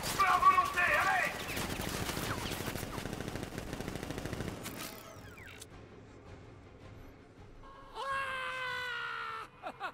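Rapid automatic gunfire from a militia ambush in Batman: Arkham Knight, loud dense bursts over the first few seconds that cut off, followed by quieter game effects and a sharp rising tone near the end, with a voice heard at the start.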